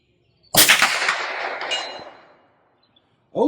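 A steel target plate rings out after a .22 LR high-velocity hollow-point bullet strikes it: one loud, sharp metallic clang that decays over about two seconds, alone, followed by a brief sound at the end.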